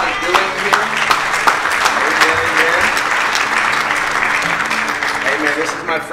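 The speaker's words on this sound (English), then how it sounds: "give a hand clap of praise to what God is doing here" A congregation at a church service claps loudly and steadily, with a few voices calling out over the applause.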